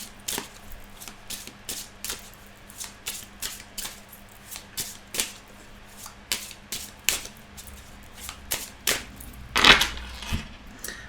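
Cards from a petit Lenormand deck are drawn and laid out, giving close, rhythmic papery taps and flicks that repeat steadily, with a soft rustle near the end.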